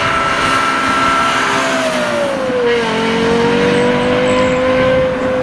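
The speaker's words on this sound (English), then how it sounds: "Wow, that is one of the great sounds." Lexus LFA supercar engine revs in a loud, continuous howl heard from inside, its pitch dipping then holding steady at a high whine, with no talking.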